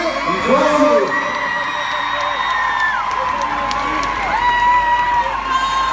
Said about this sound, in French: faites une tonne de bruit pour les jeunes de la région